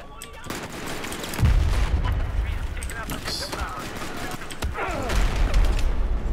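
Gunfire rattles in the shooter game Battlefield 4, with rapid shots and heavy thumps layered over continuous battle noise, while a player talks over it.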